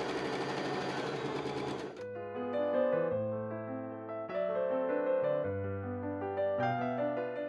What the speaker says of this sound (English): I'm using the sewing machine to do these long seams.